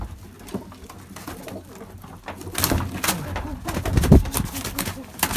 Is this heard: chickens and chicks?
no